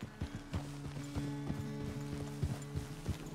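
Horse hooves clip-clop at a steady walking pace in the Red Dead Redemption video game, evenly spaced thuds layered over a low sustained tonal drone.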